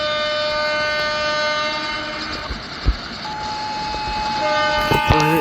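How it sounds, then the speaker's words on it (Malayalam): In Euro Truck Simulator 2, a train rumbles past with a steady drone, then a horn sounds near the end, loud and close. "ഒരു ട്രെയിൻ പാസ് ചെയ്തിട്ടുണ്ട്"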